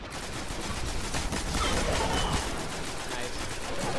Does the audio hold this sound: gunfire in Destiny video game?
yes